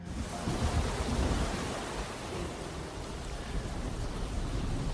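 Storm over the Sea of Galilee, with strong gusts driving big waves; a dense, continuous roar of wind and crashing water fills the whole stretch, steady and loud with no voices.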